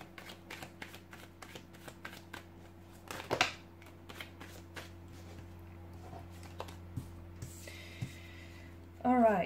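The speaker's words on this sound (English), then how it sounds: "give the cards a shuffle" Tarot cards are shuffled by hand in a series of quick papery riffles and rustling bursts, one louder burst near the middle and a brighter flurry at the end, over a faint steady low hum.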